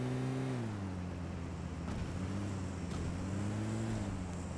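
A four-wheel-drive car drives in the video game PUBG Mobile: a steady, humming engine drone whose pitch dips and rises as it moves, heard alone without speech.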